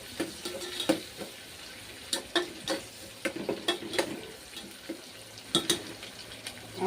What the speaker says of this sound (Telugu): అండ్ నెక్స్ట్ ఆనియన్స్, ఇవి కూడా కొంచెం ఫ్రై అయ్యే వరకు ఉంచుకోవాలి